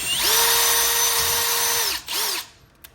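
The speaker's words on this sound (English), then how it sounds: "So now what we'll do is we'll take the drill." A power drill boring into a golf cart glove box runs loud and steady for about two seconds, then stops briefly and spins up again in a short second burst before trailing off.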